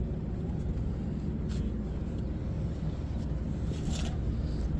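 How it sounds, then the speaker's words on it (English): A front-wheel-drive car with a home-built turbocharged Honda K20 engine and S2000 transmission runs steadily nearby, a continuous loud low rumble with no speech over it. "It's a K series turbo."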